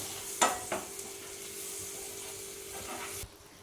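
Egg masala gravy bubbling over high flame in a pan, a steady soft sizzle with a couple of clear spoon scrapes early on, then the sound cuts off abruptly near the end.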